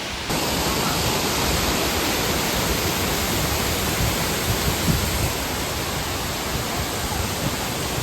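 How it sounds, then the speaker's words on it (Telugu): Kothapalli waterfalls roar as a steady, loud, broadband rush of falling water that fills the whole stretch without pause. "సో గైస్ కొత్తపల్లి వాటర్ ఫాల్స్కి వచ్చినాం అనమాట"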